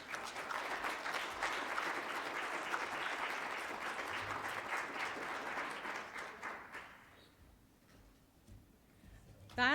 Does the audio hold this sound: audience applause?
yes